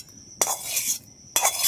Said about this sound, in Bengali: এই তড়কাটা এবার আমি এই ব্যাটারের মধ্যে দিয়ে দেবো